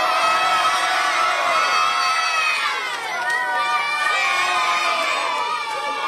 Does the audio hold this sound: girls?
yes